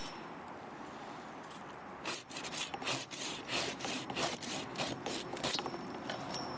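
A hand saw cuts through the trunk of an apple jujube tree during winter pruning, with quiet rustling first and then a steady run of rough back-and-forth strokes rasping close and loud.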